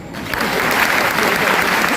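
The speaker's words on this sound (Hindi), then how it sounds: "मैं ताली बजाता हूं" A seminar audience claps together, dense, loud applause that swells in after a brief quiet start and holds steady, with some voices mixed in.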